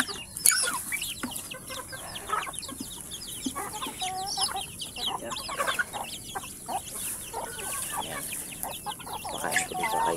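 Chickens cluck and squawk busily while being fed rice bran and corn, a dense flock chorus close by with overlapping calls and occasional louder squawks throughout.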